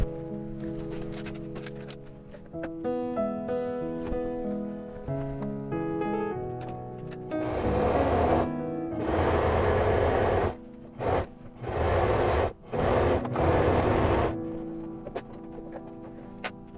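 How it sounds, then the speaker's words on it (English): A sewing machine runs a zigzag stitch across a pair of jeans, its motor whirring in several loud bursts of a few seconds each with short pauses between, while faint musical tones play in the first half. "stick them under the sewing machine and do a zigzag stitch"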